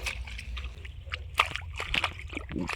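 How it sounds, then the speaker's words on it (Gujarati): A mud-caked sandal is rinsed in a little water after heavy rain, giving short irregular sloshes and splashes close by. "હવે હું થોડા પાણીમાંથી એને ધોઈ નાખીશ"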